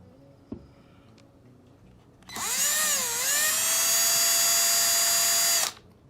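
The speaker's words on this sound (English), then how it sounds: "I'm gonna pre-drill a hole." A power drill pre-drills a hole in a DIY wall-mounted folding desk, whining up after a quiet start with a small click, holding a steady high pitch for about three seconds, then stopping abruptly.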